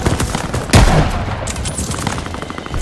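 Bursts of automatic gunfire rattle in the World War II shooter game Call of Duty: Vanguard, loud and dense, with one heavier blast near the start and sustained firing after it.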